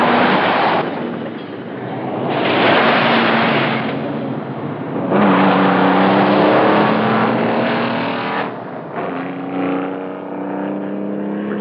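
Heavy trucks race and rev their engines in loud bursts that rise and fall, with gear-change breaks between long roaring stretches and no talk.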